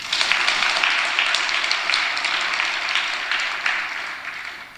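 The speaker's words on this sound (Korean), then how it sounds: "박수 한번 쳐줘요." A church congregation applauds after a choir's hymn, producing a steady, dense wash of many hands clapping that fades slightly toward the end, with no talk over it.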